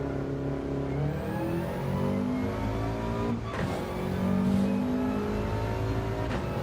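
Race car engine in Gran Turismo 7 holding a steady, droning roar with rising and falling harmonic sweeps as it revs, continuous and close, with no talking.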